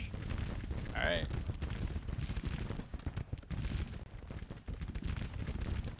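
Musket volley in a Civil War strategy game, a dense burst of firearm reports around the one-second mark, then continuous rumbling battle noise with scattered shots and cannon-like booms throughout.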